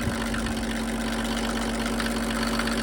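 A Mercedes OM603 diesel engine driving a motor pump idles steadily and loudly, a continuous even drone with a low hum throughout and no pauses.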